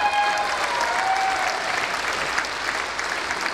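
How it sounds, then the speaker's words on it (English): Graduation ceremony audience cheers and applauds a graduate, dense sustained clapping with a few whistles at the start, loud and filling the hall throughout. "That's a nice cheer."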